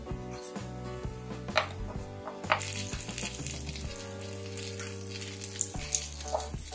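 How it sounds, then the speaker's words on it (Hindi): Chopped garlic sizzles and crackles steadily in melted butter and olive oil, with occasional stirring clinks from a utensil against the pan. "बटर और ऑलिव ऑयल में मैं ये लहसुन डाल रही हूँ कटे हुए"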